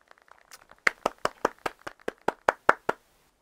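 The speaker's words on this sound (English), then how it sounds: "I think we all have to clap him again." About a dozen crisp, evenly spaced hand claps ring out in a steady rhythm in Animal Crossing: New Horizons, starting faintly and growing louder before stopping.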